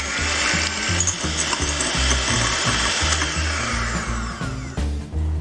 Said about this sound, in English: Beat the whites until soft peaks form.